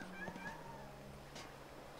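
Cats meowing in the video game Lightning Returns, a couple of short mid-pitched meows early on, fairly faint over steady game background sound, with no speech.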